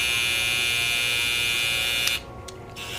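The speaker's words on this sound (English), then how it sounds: "So the Patty Cuts version, the new trimmer, is very quiet compared to the Silver FX." A new Babyliss Patty Cuts electric hair trimmer running with a steady high buzzing whine, close and fairly quiet, that cuts off abruptly near the end, leaving brief faint clicks.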